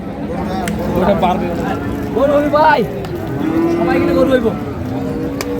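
A Sahiwal bull at a rural cattle market moos loudly and nearby several times, long drawn-out calls rising over the murmur of people talking and haggling.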